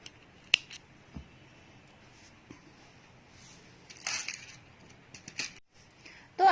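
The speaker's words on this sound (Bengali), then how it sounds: "এক্সট্রা সুতাটাকে কেটে ফেলবো" Scissors snipping off surplus crochet yarn after stitching a crocheted shoe strap, heard as a few quiet, close clicks and crisp snips with soft handling noise between them and no talking.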